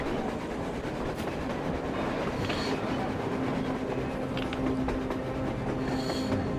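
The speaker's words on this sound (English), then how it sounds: "A train! A damn train on the surface!" A train in the video game Metro Exodus rumbles past in a continuous roar with rhythmic clacking and faint metallic squeals, loud and steady throughout.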